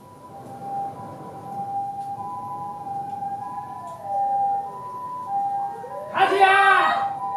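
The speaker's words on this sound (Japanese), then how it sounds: "消防車の音と怒号が聞こえる" A fire engine siren wails in a shopping street near a burning paper factory, its rising and falling tone running steadily throughout, with a burst of loud shouting near the end.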